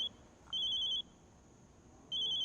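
A telephone rings in two short electronic trilling bursts separated by a pause, clear and moderately close in an otherwise quiet room.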